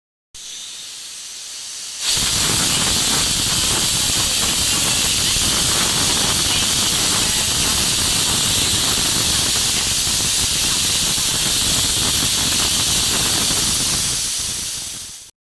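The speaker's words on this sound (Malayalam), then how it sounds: "അപ്പം നമ്മുടെ കുക്കറിൻ്റെ വിസിലൊക്കെ പോയിട്ടുണ്ട്, കംപ്ലീറ്റ് ആയിട്ടുണ്ട്." A loud, steady rush of hissing steam escapes continuously from a pressure cooker whistle for over ten seconds after a sudden start, with a rough, roaring texture and no voices.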